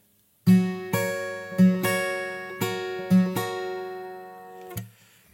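An electric guitar picks a short riff bar of six or so plucked notes in an even rhythm, each one ringing out clean and close with bright sustained harmonics, with no talking.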